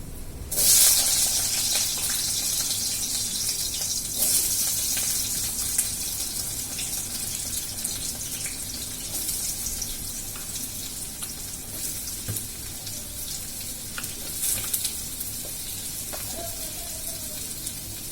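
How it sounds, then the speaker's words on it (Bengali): Thin strips of potato frying in hot oil in a pan, a steady bright sizzle and hiss throughout with a sharper crackle burst near the start, heard close and alone. "তো আলুগুলো ফার্স্ট ভাজতে দিয়ে দিই"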